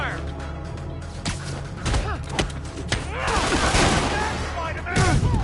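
Gunfire in a Spider-Man video game: loud bursts of shots crack out at irregular intervals, mixed with thuds and other game effects, with no clear voice over them.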